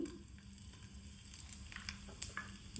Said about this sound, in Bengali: 3 থেকে 4 টেবিল চামচ তেল দিয়ে দিলাম। এবার একে একে দিব হিং,